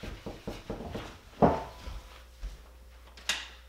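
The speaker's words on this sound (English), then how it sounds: "I'm getting the door." A door is opened indoors with a few soft clunks and one heavier thump, followed by scattered knocks and faint movement; nobody speaks.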